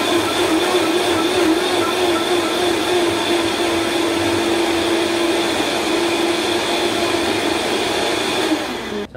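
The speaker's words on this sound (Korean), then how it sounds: "블렌더 뚜껑을 닫고요. 약 8초에서 10초간 갈아주도록 하겠습니다" A blender crushes ice with pineapple juice and mix for a piña colada, giving a loud, steady whirring grind that holds for about nine seconds before cutting off at the end.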